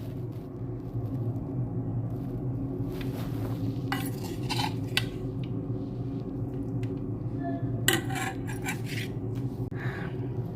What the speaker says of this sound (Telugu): ఉల్లగడ్డ తాలింపు